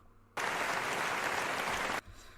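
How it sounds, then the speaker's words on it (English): A round of applause for the first act of an online team-building show, a dense wash of clapping that starts abruptly, holds steady and loud for about a second and a half, then cuts off. "Do a big PES United round of applause and welcome your first act of the evening."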